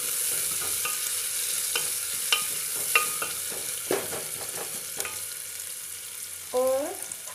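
Chopped onions stirred into hot oil in a pan for a black chickpea curry, a steady sizzle with scattered scraping clicks of the spoon and a brief rising squeak near the end, close and with no voices.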